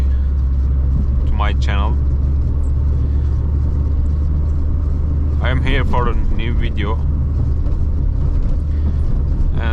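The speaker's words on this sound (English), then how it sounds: "I am driving the car in the traffic" A Peugeot 106 XSi drives in traffic with a steady low engine hum and road rumble running throughout, while someone talks over it in two short bursts.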